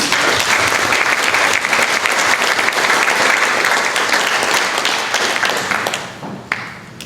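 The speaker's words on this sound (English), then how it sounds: "Big round of applause." Sustained audience applause at a San Antonio mastermind seminar: dense, loud clapping from a large crowd filling the room, holding steady before tapering off with a few last claps near the end.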